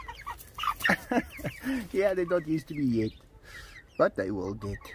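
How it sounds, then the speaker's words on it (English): Chickens cluck and squawk in short, close bursts, mixed in with and partly overlapping a man's speech. "Chickens."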